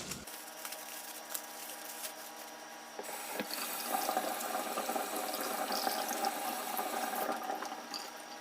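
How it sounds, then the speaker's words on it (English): Cauliflower is rinsed under a running kitchen tap, a steady broadband stream of water with faint clicks and knocks as the head is turned. The flow swells louder partway through and keeps running without talk. "take some cauliflower, we'll wash it"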